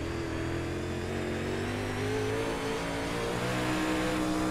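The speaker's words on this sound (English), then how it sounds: "Hear that throttle rhythm" A dirt track race car at Williams Grove Speedway holds a loud, steady engine roar with rhythmic throttle surges, close and continuous throughout with no talk.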